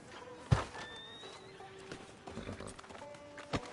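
A horse in Red Dead Redemption 2 snorts and shifts its hooves near a sheriff's office, with a thud and faint tack sounds among quiet game ambience.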